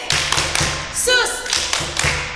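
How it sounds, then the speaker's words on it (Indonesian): Children at a Sunday school worship service give a few rhythmic claps for God, tapping in short bursts with a brief sung or called voice in the middle. "Ayo, tepuk tangannya buat Tuhan."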